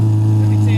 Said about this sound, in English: give it to me with the mufflers first